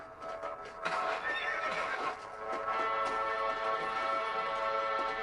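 Horse in the Red Dead Redemption video game whinnying loudly near the start, followed by steady clip-clop hoofbeats and harness jingles at a gate, all close and continuous without talk.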